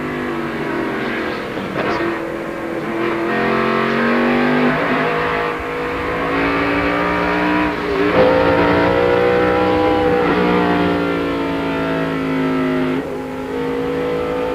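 NASCAR Busch Series race car at Watkins Glen, engine roaring flat out with rising and falling pitch sweeps as it accelerates and downshifts, loud and continuous throughout with no talk.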